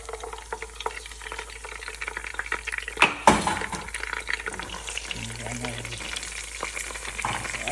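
Frozen onion hits a hot pot with a sudden loud splash and hiss, followed by continuous crackling sizzle and stirring scrapes; a faint low hum runs underneath.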